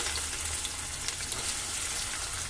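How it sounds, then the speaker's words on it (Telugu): Onions sizzling in hot oil in a pan, a steady broadband frying hiss running continuously and close for the whole stretch with no talk. "ఆయిల్ కూడా బాగా కాగిందండి తర్వాత ఏం చేయాలంటే ఉల్లిపాయలు వేసేసుకోవాలి"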